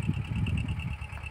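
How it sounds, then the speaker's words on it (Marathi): A tractor engine runs during maize sowing in a drizzly field, a low pulsing rumble heard briefly and fairly faint, with no voices. "ट्रॅक्टर पेरणी चालू आहे"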